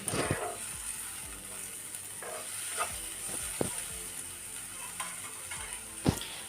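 Tomatoes frying in a pan for a paneer capsicum dish, a faint steady sizzle with scattered scraping taps of a spoon stirring, quiet and close.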